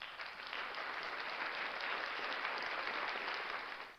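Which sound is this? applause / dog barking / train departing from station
applause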